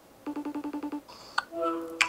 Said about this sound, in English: I wanna give him a little FaceTime call